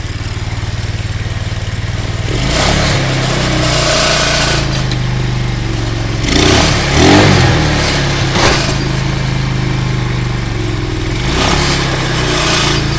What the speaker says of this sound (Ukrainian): Вийшло ну запустити, працює моторчик непогано.